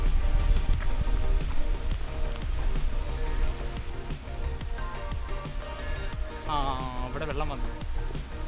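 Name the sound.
monsoon rain in a park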